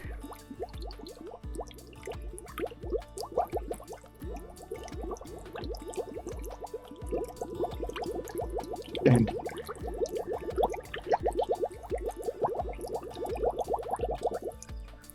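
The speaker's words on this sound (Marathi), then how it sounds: "पूर्ण बाटली उलटी करा आणि खाली जाऊ दे पूर्ण. आणि आता बुडबुडे आले पाहिजे." Water flows into an upturned bottle outdoors at Torna fort, producing a long run of glugging bubble pops that come in clustered bursts and grow denser and more regular toward the end, close up with no talk.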